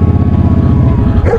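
A dog on a rural dirt track makes loud, close, rapid barking and yipping, a continuous run of quick vocal bursts.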